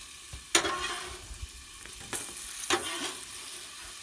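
Country-style pork ribs and potatoes sizzle on a Blackstone griddle, a steady close hiss of frying broken by a few sharp scrapes and clatters.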